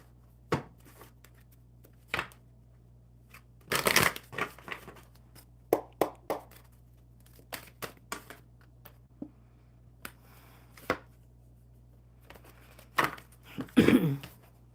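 Oracle cards being shuffled by hand during a live card-reading session, heard as scattered soft riffling bursts and taps, with a denser flurry near the start and another near the end, over a quiet low hum.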